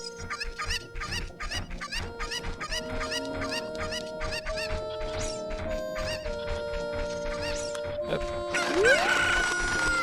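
Cuckoo chickens in Zelda: Ocarina of Time cluck in a fast, steady series of game sound effects, with crowing and a rising squawk near the end, loud and without speech.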